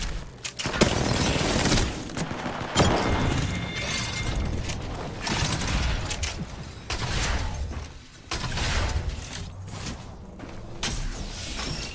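Sustained, loud automatic gunfire from a squad firefight in the battle royale game Apex Legends, with dense rapid bursts, impacts and brief gaps, almost without pause across the whole stretch.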